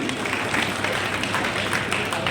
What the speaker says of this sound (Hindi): ताली बजा के स्वागत करूँगा